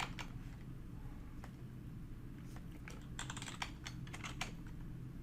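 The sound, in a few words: typing a Linux command on a computer keyboard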